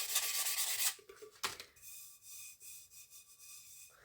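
Sandpaper rubs over a glitter resin coffee tumbler with stainless steel ends, a short rasping stroke followed by quieter, softer scrubbing, close and faint, with no voices.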